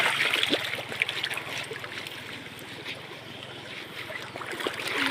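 Water from a river stream flows steadily while a motorcycle is washed in it, a continuous close rushing and trickling with no talk.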